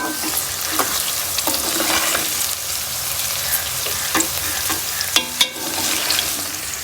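Okra (bhindi) frying in oil produces a loud, steady sizzle near at hand, punctuated by sharp clicks and scrapes of stirring toward the end, without any speech.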